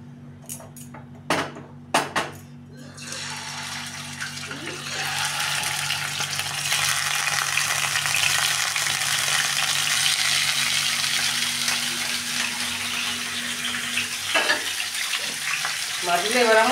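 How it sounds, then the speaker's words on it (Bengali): Pieces of chitol fish drop into hot mustard oil in a wok, a few sharp knocks first, then a loud, steady frying hiss builds and holds close up, with a brief clatter near the end. "এবার আমি একে একে মাছগুলো ভাজার জন্য দিয়ে দেবো।"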